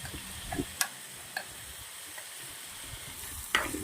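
Ground green chickpeas and chili paste sauté in a pan with a soft, continuous sizzle, broken by a few sharp clicks and scrapes of stirring.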